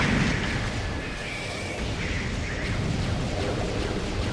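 Weapon fire against Metroids in Metroid Prime rumbles in a continuous, loud barrage of booming blasts, with a faint whining tone over the top. There is no speech.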